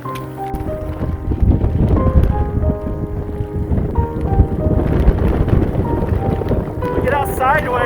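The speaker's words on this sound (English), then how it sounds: "Raining pretty bad." Heavy rain hisses steadily with gusty wind buffeting close by on a long-distance hiking trail, a constant loud roar throughout; a voice briefly sounds near the end.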